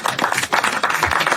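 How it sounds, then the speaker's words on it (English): Dense, steady applause from an audience at a youth provincial SDG summit in Mashonaland East, Zimbabwe. The clapping fills the whole moment at a constant level with no voices over it. "let's give a round of applause"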